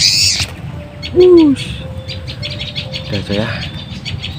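Flycatcher calling outdoors, a few clear rising whistles and a long steady tone amid other bird chirps and background noise, with someone speaking briefly.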